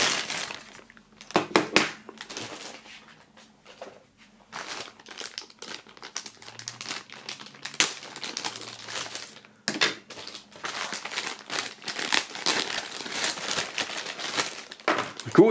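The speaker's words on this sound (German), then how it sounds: "jetzt haben wir den gesamten Boxinhalt entnommen und auch aus der Folie befreit" Plastic foil being peeled and crumpled off the contents of a Sony PlayStation Classic box, with bursts of loud close crinkling and rustling separated by brief quiet gaps.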